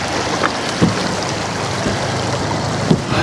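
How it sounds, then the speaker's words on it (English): Fishing boat motor running on the Cowlitz River, a steady low drone mixed with wind and water rush, with a few soft knocks and splashes, no talk. "Well, the motor seemed to be running good."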